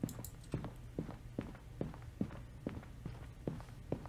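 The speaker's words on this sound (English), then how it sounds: "I hear footsteps." Slow, evenly spaced footsteps thud down a hallway in a scary video game, about nine distinct steps, faint and hollow against a low ambient hum.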